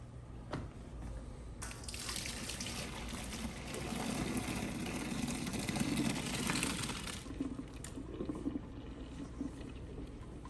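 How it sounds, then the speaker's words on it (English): Cooked macaroni is drained of its hot cooking water, a steady pouring and splashing rush that swells in the middle and then tapers to trickles and drips, heard close with no talking. "Now that the pasta is thoroughly cooked, we're gonna go ahead and drain it."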